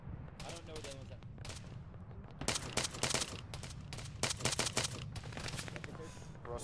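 Infantry gunfire in a combat video game, repeated sharp shots and rapid bursts growing busier in the second half over a low rumble, with voices talking in between.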